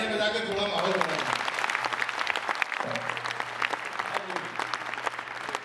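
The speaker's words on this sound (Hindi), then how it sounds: "एक बार तालियां बजा के थोड़ा माहौल बनाएं।" Audience clapping at a Hindi comedy poetry (hasya kavi) show, a dense burst of applause filling the room after a voice fades out, dipping briefly and then continuing steadily to the end.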